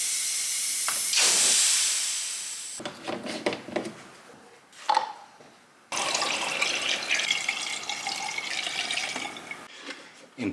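Coolant pours and gurgles into a Mercedes-Benz C450 AMG engine with a steady hissing rush, broken by a few bumps and pauses before a longer, louder stretch of flowing.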